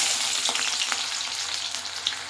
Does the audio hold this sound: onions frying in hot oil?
yes